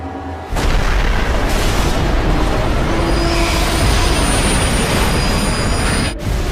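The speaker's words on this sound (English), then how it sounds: "The trains collide like two charging rams at a combined speed of nearly 200 kilometers per hour" Two trains collide head-on at a combined speed near 200 km/h, a sudden loud boom followed by a sustained roaring crash of grinding metal that cuts off abruptly near the end.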